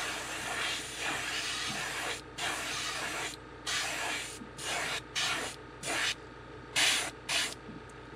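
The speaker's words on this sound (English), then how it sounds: "The back color that we spray over it, it's going to really pop." Airbrush or spray gun hissing metallic paint onto a fishing lure, a close steady spray broken into short bursts of varying length with brief pauses between them.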